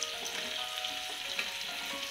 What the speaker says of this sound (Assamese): এইখিনি অলপ সময় ভাজি লওঁ